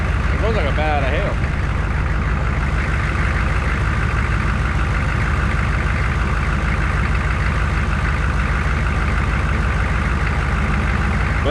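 Loud, steady engine of a 1969 Chevrolet C10 truck running close by, a dense rumbling idle that fills the whole stretch without pause.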